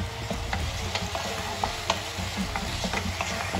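Thin-sliced green chillies and onion sautéing in a pan: a soft continuous sizzle with repeated light stirring taps and scrapes, low in level and without speech.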